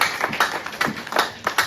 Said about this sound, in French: Acclamons quand même pour la gloire de Dieu.